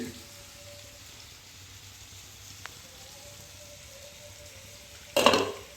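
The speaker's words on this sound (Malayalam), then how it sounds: "ഇനി മീൻ ഇതാ പൊരിഞ്ഞുകൊണ്ടിരിക്കണം" Fish fries in a pan with a low, even sizzle running throughout, capped near the end by a brief louder crackling burst.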